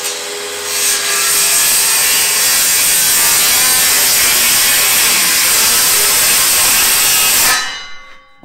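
Saw cutting through trailer floor boards, a loud continuous rasping buzz of blade in wood lasting several seconds before stopping abruptly.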